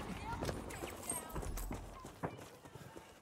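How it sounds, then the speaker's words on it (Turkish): Footsteps in the Battlefield 5 video game, on the Wake Island map, thud in an irregular sequence of soft, near impacts under someone speaking. "Burada bir yerde ayak sesi var."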